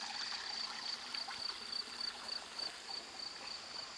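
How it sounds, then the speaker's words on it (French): Spring water trickles softly along a small irrigation channel into a basin. The flow is a faint, steady sound under a persistent chirping of crickets. "La source arrive par cette rigole dans le bassin"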